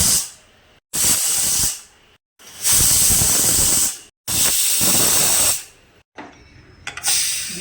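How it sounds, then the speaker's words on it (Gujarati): Steam bursts from a pressure cooker whistle while vegetables cook: three loud, sustained hisses, each lasting over a second, separated by brief silences, then a softer, uneven release at the end. "વિસલ નીકળી ગઈ છે."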